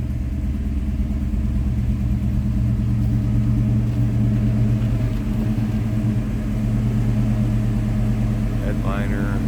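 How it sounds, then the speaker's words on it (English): A 1987 Chevrolet Silverado K10 truck's 350 V8 idles with a steady, low exhaust rumble, close and constant, with a faint higher whine near the end. "Nice little rumble out of that 350."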